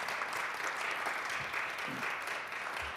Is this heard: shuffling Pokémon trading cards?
no